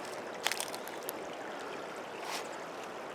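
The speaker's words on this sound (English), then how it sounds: "Here's where Deep Creek shoots out into the river." Deep Creek pouring out into a river in Montana, a steady broadband rush of flowing water with a few faint splashes and knocks, quiet and continuous throughout.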